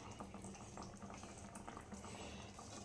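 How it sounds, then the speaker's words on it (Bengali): Eggplant curry (begun bahar) bubbling in a pot: a dense, steady boiling burble at low level, unbroken for the whole stretch with no voices. "এটা আমার ফুটে গেছে"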